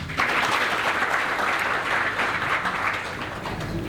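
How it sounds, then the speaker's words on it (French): Steady, full applause from a large audience at a gathering in Guinea, many hands clapping in an even, continuous roar that holds for several seconds. "applaudissez pour vous-même"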